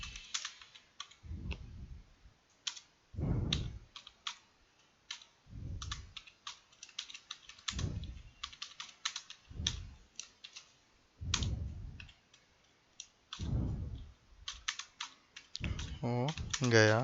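Typing Urdu text in InPage 2011 on a computer keyboard: bursts of quick, close key clicks in an irregular rhythm, alternating with someone speaking between and over the typing.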